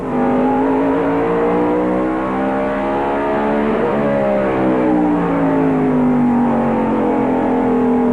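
A stock car engine heard from the in-car camera during the 1995 Martinsville Hanes 500, loud sustained roar rising and dipping in pitch as it revs through the turns, with no talk.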